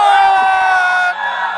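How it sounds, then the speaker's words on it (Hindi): A large concert crowd at a Bhojpuri stage show roars and cheers loudly, a dense sustained wall of shouting voices that dips slightly near the end. "एक बार और जोर से चिल्लाता जाओ"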